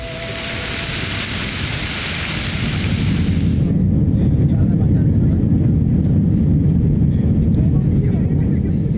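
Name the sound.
airplane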